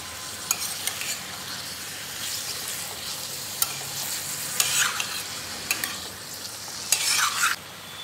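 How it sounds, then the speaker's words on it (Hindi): Mutton roasts on high flame in a pan, a steady soft sizzle of frying meat broken by several sharp scraping stirs of a spoon, louder bursts near the end, with no talking. "अब मटन को हाई फ्लेम से अच्छे से रोस्ट करें 2 से 3 मिनट के लिए"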